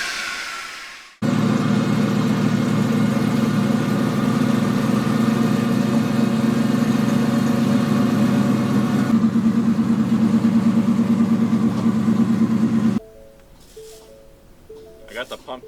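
The engine of a twin-turbo Ford F-150 pickup idles steadily and loudly for about twelve seconds, its tone shifting slightly partway through, then cuts off abruptly.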